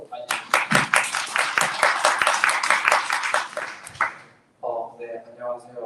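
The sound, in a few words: audience applauding the speaker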